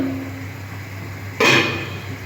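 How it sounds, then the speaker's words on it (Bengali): A metal lid comes off a cooking pot of okra and small-fish curry, giving one sudden clattering lift with a brief bright scrape, followed by a soft steamy hiss over low kitchen background. "এবার ঢাকাটা খুলে দেখি বন্ধুরা কত দূর হলো।"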